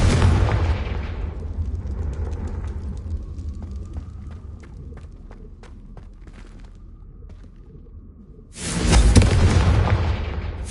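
Confringo fire-spell explosions from the game Hogwarts Legacy: a loud broadband blast opens, a quieter stretch of tinkling game effects follows, then a second loud explosive burst erupts near the end.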